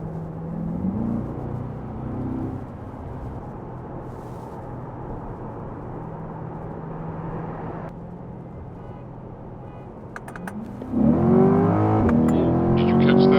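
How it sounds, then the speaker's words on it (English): A BMW M3 and a Corvette C8 Z51 race on a street, with a loud, sustained engine roar that swells sharply into a rising rev near the end, heard from inside a car while people talk over it. "did you catch that bit of turbo lag on the M3?"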